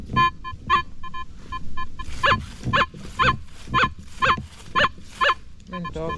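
A Nokta Legend metal detector gives repeated pulsing signal tones over a buried target. Short, evenly spaced beeps sound up close and fairly loud, several in a row, with faint background rustle.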